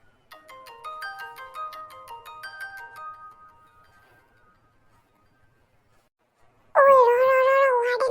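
A melodic electronic mobile phone ringtone plays in a cartoon, a quick tinkling tune repeating for about three seconds, then a loud whining, wailing voice cuts in after a pause.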